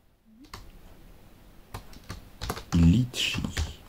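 Someone types a short word on a computer keyboard, light clicking keystrokes in a quiet room, with brief speech-like sounds near the end.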